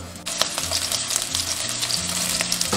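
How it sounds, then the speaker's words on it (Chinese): Scallops pan-fry slowly in cooking oil over medium-low heat, a steady close sizzle with crackling pops and light spatter throughout, no talking. "接着下入圆贝，中小火慢煎。"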